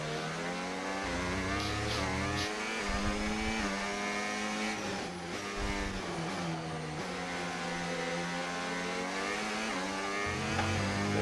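F1 race car engine in the F1 25 racing game, a continuous loud high-pitched whine that rises and falls through gear changes and acceleration, steady with no talking.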